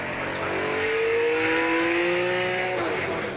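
A 1959 Alfa Romeo Giulietta SV on a winding road in Sicily accelerates steadily, its engine note rising smoothly in pitch and holding strong and close for a few seconds before easing off.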